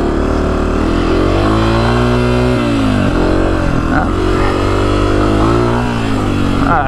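A 2024 Honda CRF250F dirt bike's engine revs and shifts on a hot desert ride, loud and close, its pitch rising and falling through gear changes with wind noise.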